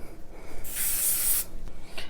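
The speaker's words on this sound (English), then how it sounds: "Now we spray and let everything dry for a second." Hairspray sprays in one steady hiss of about three-quarters of a second, fairly close and alone, then a faint second short burst near the end.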